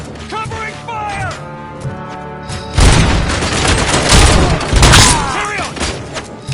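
Sustained covering gunfire from the RoboCop: Rogue City video game, a dense burst of shots and booms that sets in partway through and continues loud, with game voices and mechanical clanks mixed in.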